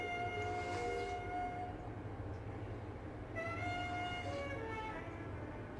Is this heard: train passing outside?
yes